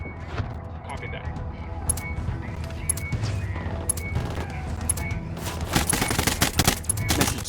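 Gunfire in Ghost Recon Wildlands crackles in the background under talk and game sounds, then builds into a denser run of sharp automatic bursts over the last few seconds.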